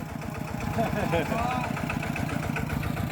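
A tractor engine idles nearby with a steady low chugging throb, while people talk over it.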